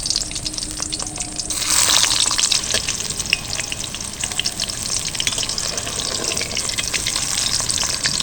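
Potatoes frying in hot salted oil in a wok, a steady loud sizzle running throughout with a brief surge as they go in and faint clinks of stirring.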